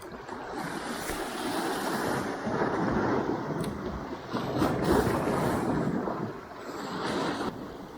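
Choppy sea waves washing around a small fishing boat, a continuous rushing surge with wind noise that swells and eases in waves, close and fairly loud with no talking.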